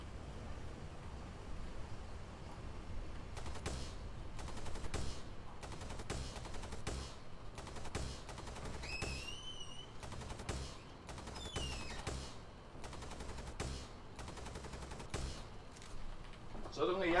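A light machine gun fires in a sci-fi video game, giving a steady series of sharp bursts with brief gaps over a low ambient hum, with faint electronic chirps partway through.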